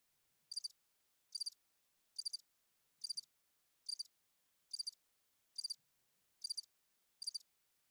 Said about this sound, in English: This is what you hear, bro. You hear crickets.